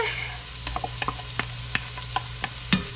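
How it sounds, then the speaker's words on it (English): Onions sautéing in oil in a home kitchen pan give a low steady sizzle, with a series of sharp utensil taps and scrapes from stirring that ends in one louder clack. "Because now we need to saute onions. Add some oil. Pop our onions in."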